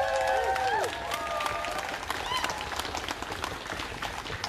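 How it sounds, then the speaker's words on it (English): A crowd at a trans rights protest applauding outdoors, a broad steady wash of clapping with some cheering and whistle-like tones early on, under scattered background voices. "Round of applause, please."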